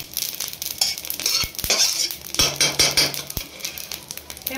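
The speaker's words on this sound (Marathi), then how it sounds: "लवंग भाजते वेळेस जपून भाजायची आहे, ती तळल्यानंतर उडून येते, पोळायची भीती असते" Whole cloves dry-roasting in a pan on the stove, giving a light crackling sizzle with scattered sharp pops and taps of spices against the metal, close and fairly quiet throughout.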